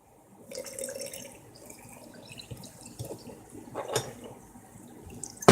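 Water poured into a container to mix a ration apple drink powder, a thin splashing trickle at close range that lasts several seconds, with a few clinks.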